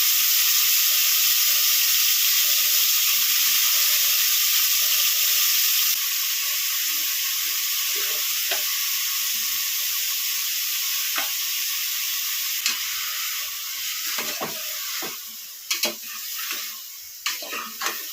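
Chopped onion fries in a small amount of oil for sprouted-bean sambar, giving a steady, close sizzle and hiss. Occasional clinks and scrapes of stirring come in toward the end, with no talking.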